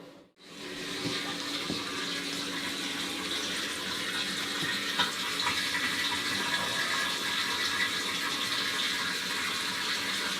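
Water rushes steadily into storage tanks as they fill, a continuous, even hiss and splash that starts abruptly after a short gap and holds at a constant level for the whole stretch.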